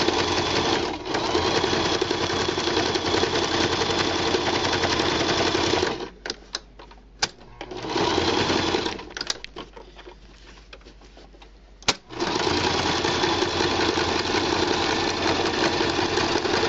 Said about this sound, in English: we're going to go all the way around with a zigzag.